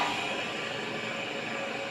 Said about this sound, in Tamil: அதுதான் இப்போ மோட்டர் ஓடுது.